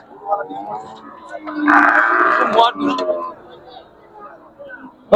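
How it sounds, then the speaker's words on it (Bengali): Cattle at the Habiganj cattle market lowing in a long, loud moo near the middle of the clip, with shorter calls around it, over crowd talk and chatter. "অভিগঞ্জ গরু হাট থেকে গরুগুলো দেখাচ্ছি।"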